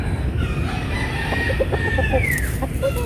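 A Kelso White gamefowl rooster crows nearby, a loud drawn-out call over a busy farmyard background with other fowl clucking.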